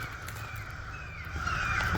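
Crows caw in trees in the woods, a few harsh calls overlapping at middle distance, with no talking.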